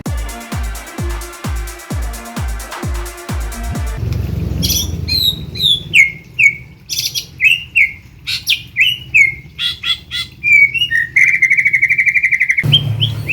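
A murai batu, or white-rumped shama, sings loudly and close by in a run of varied whistles, chirps and rapid trills, preceded by a short rhythmic musical intro.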